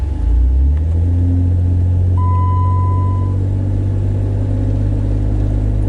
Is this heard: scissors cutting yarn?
no